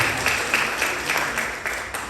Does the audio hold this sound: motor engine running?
no